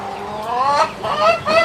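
A rooster shut inside a coop on a small home farm calls out in a few loud, harsh, strained cries close by, each rising and breaking, with no talk over it.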